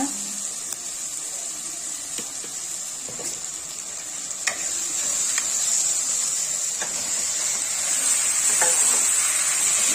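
Tomatoes and onions sauté in a pan for mutton kurma, giving a steady, close sizzle with faint scraping stirs and small pops throughout, without any talking.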